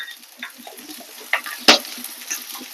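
Cucumber and potato curry frying in a pan, with soft sizzling and a few scattered scrapes and taps of stirring, one sharp clack standing out near the middle, fairly quiet and without talk.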